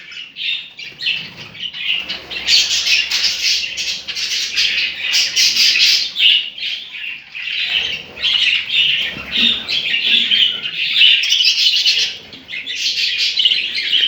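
Several budgerigar chicks, including a Texas variety, chirp and squawk close by in rapid, overlapping high-pitched calls, with occasional soft wing flutters, loud and continuous for the whole stretch.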